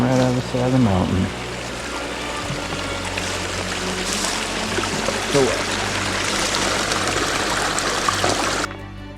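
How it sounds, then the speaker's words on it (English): Spring water pours straight out of a mountainside beside a sloped campsite on a Benton MacKaye Trail thru-hike, a steady close trickling rush; a voice speaks briefly over it at the start. "Got water coming right out of the side of the mountain."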